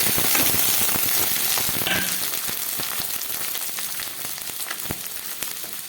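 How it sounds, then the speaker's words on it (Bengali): Onion and capsicum frying in mustard oil in a wok over low gas, a dense close sizzle that is loudest at first and then settles, with sharp stirring clicks scattered throughout. "দিয়ে দিলাম তাতে পরিমাণ মতো তেল সর্ষের তেল দিয়ে দিলাম এবার দিয়ে দিচ্ছি এর মধ্যে গ্যাসটা একদম কমে আছে পেঁয়াজ আর ক্যাপসিকাম"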